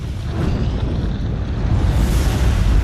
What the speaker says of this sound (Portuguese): A espetacular explosão lança vastas quantidades de radiação letal no universo.